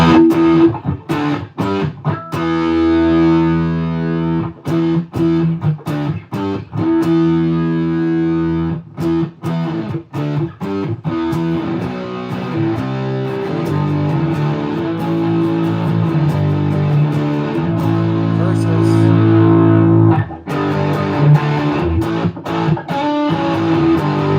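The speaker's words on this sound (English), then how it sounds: "I'm totally changing the texture by rolling back and forth the soak control" Heavily distorted fuzz pedal guitar chords played loud, the tone shifting between thinner, spitty textures and fuller, saturated ones as the pedal's bias control is swept back and forth.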